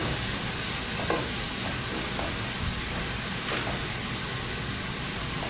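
Mushrooms frying and being stirred in a wide open pan, a steady close sizzle with a few soft scraping stirs throughout, no talking.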